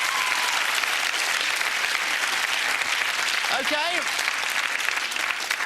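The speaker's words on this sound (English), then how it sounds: "Big round of applause for all of them." Studio audience applause on a TV game show, a loud, dense, sustained roar of many hands with brief speech heard over it.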